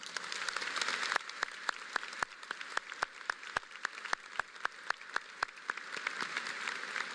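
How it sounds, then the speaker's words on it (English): Graduation ceremony audience applauding graduates: a soft wash of distant crowd clapping with one nearby person's sharp, evenly spaced claps standing out in a steady rhythm. "Please join me in giving them a round of applause."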